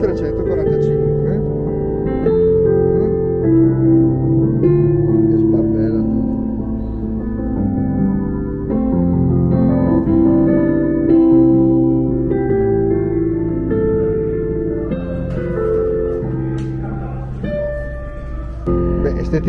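GEWA DP345 digital piano with a Steinway sample, played continuously in a dense flowing passage of chords and melody at steady, fairly loud volume throughout.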